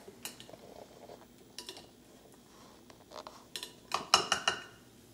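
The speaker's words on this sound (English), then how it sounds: "you'll press down with a spoon to get the final bits of liquid out of your herbs." A spoon presses and scrapes against strained herbs in a pot during a herbal decoction, producing scattered metallic clinks and scrapes that grow denser and louder toward the end.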